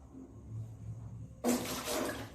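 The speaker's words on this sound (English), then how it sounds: "Here also glass is there when we are throwing this water" Water is tossed out of a glass in a classroom demonstration, landing as a short splashing burst after a quiet stretch, moderately close, then trailing off into a brief watery rustle.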